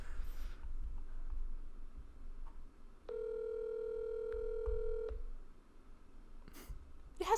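A telephone number being dialed: a two-second run of steady dial-tone-like beeps plays alone, preceded and followed by faint low background rumble and small clicks.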